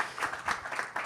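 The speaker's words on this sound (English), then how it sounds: "So I think we should give him a round of applause to begin with." An audience at a plenary session on financing new-age businesses claps in a brief burst of dense applause, fairly loud and close, lasting about a second.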